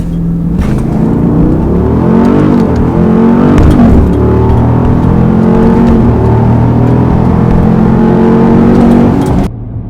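A 2020 Jeep Grand Cherokee SRT SUV accelerating hard in a 0 to 60 run, its engine roaring loud and steady for nearly ten seconds with rising pitch through gear changes, no talk.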